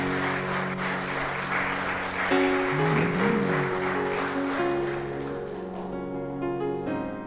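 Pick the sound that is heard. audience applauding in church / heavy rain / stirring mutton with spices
audience applauding in church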